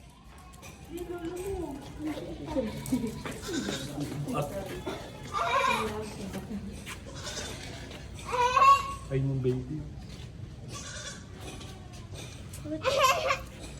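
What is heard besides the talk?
goat bleating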